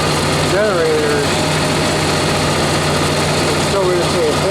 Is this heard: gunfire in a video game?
no